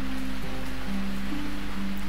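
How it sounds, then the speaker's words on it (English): Steady, dense rain hiss from the Princess Evangile visual novel fills the scene, continuous and even, with faint tonal music lines running underneath. "Wow, sure is raining hard."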